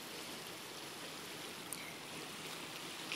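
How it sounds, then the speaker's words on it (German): Water rushes softly at the harbour in Trouville, Normandy, on an evening, a steady broad wash of faint, continuous noise with no voices. "Das Wasser rauscht"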